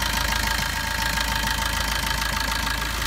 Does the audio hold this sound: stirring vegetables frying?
no